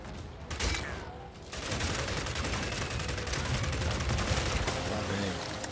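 Gunfire in the video game Gears 5, played on an Xbox Series X, with dense sustained bursts of shots rattling continuously at high loudness after a brief opening volley.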